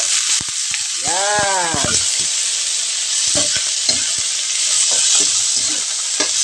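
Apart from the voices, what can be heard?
coconut being sauteed with onions in a pan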